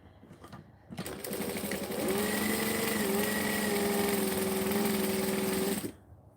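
A sewing machine runs steadily at speed while stitching curves, a continuous whirring drone with a faint rising hum, starting after a brief pause and stopping abruptly.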